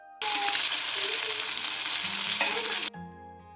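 Fish pieces frying on a hot tawa, a loud close sizzle that starts abruptly, holds steady for under three seconds and then cuts off sharply.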